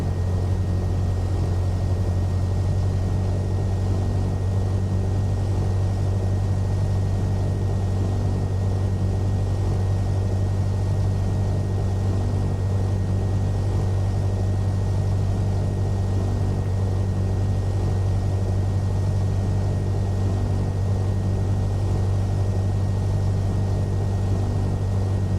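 Cessna 172SP single-engine piston aircraft in the Prepar3D flight simulator, its engine droning steadily and loudly with a constant low hum throughout, no speech over it.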